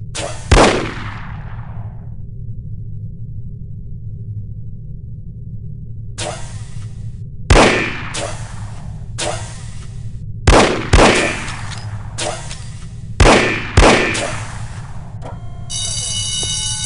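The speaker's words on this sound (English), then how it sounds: "Because it's a revolver, it can't be adequately silenced" Revolver gunshots in the spy video game No One Lives Forever: sharp, loud reports fired singly and in quick pairs, about eight shots spread over several seconds with steady background hum between them.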